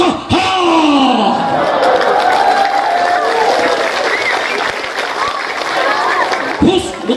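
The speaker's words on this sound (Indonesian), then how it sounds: "Tepuk tangan." Loud crowd applause and cheering at a religious sermon gathering, greeting a guest preacher, with shouts rising from the audience and a voice cutting in over the din at the start and end.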